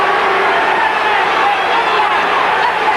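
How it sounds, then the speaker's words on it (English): A roaring crowd fills the arena at the 1982 WBC heavyweight title bout between Larry Holmes and Gerry Cooney, a dense, loud, steady wall of cheering and shouting with no breaks. "The crowd really comes alive now,"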